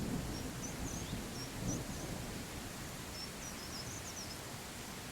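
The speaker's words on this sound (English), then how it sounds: "We do get rain, but I don't mind the rain." Steady rain hisses evenly in the Viking village-building game Land of the Vikings, with a soft low rumble of thunder early on and scattered light bird chirps above the downpour.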